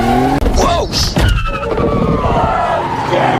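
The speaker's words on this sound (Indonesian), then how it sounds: "mobil yang mereka kendarai mengalami kecelakaan" A car crash from the action film 6 Underground, loud and close, with squealing tires and skidding, a heavy impact thud, and scraping metal that tails off into engine and debris noise.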